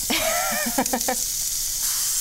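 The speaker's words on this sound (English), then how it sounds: "I'm not brave enough to get that close to the hot bacon as it sizzles and cooks down" Hot bacon sizzles and fries in a kitchen pan, a constant bright hiss running the whole time beneath a brief spoken phrase near the start.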